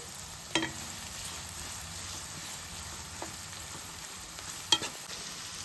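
Sliced onions frying with salt in a pan for a prawn and okra curry, giving a soft, steady sizzle with two distinct knocks of a spoon stirring, close and quiet.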